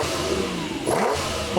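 A mid-engine BMW M1 ProCar race car engine revs hard and close, rising and falling in a short, loud, rasping burst.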